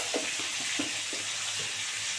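Potato and pointed gourd fry in oil in a pan with a little salt, giving a steady, fairly quiet sizzle broken by soft, regular stirring bumps, with no voices.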